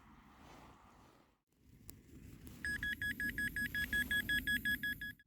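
A metal detector sounds a rapid, evenly pulsing electronic beep during a muddy group dig in a Somerset field. The beeping starts partway through and repeats about a dozen times, after quieter rustling and handling noise.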